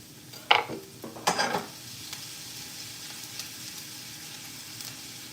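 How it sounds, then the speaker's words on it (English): Garlic hits hot oil in a pan for a Khmer sour soup, giving two sharp bursts of crackling sizzle early on that settle into a steady, quieter frying hiss. "I think my oil is indicating of its activity, so it's exploding on me, so we'll go ahead and roast it right now"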